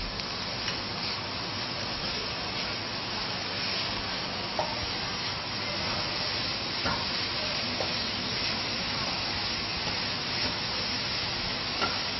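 Steady, loud sizzling of food frying in a hot pan with a little oil, with faint scraping of stirring throughout.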